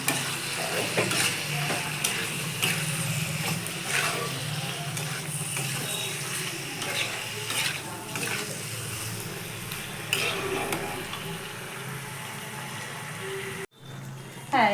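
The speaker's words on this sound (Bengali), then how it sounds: "হলুদটা দিয়ে একটু ভাজা করে নিচ্ছি" Chicken pieces sizzle in a pan with turmeric and salt, a steady close frying hiss with spatula stirring and scraping throughout, ending abruptly.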